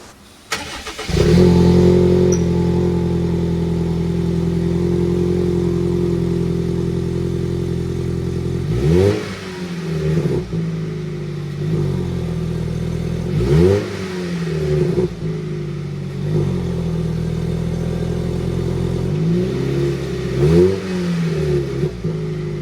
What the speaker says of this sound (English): I'll do that cold start up for you, and then you can hear it as we go down the road